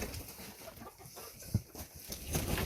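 Soft clucking from chickens mingles with faint outdoor noise, low and intermittent, with no talking.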